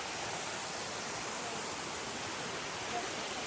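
Sirikal Gundi waterfall, a steady, unbroken broadband rush of falling water heard continuously at moderate loudness with no distinct voices.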